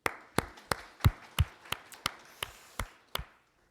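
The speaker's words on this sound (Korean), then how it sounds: "우리 하나님께 감사의 박수." A church congregation claps during a Sunday worship service, heard as about a dozen sharp, evenly spaced claps at a steady rhythm, fairly faint with short room echo and no voices.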